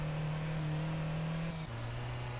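A steady video game car engine drone with a mechanical hum, its pitch dropping abruptly partway through as if shifting gears.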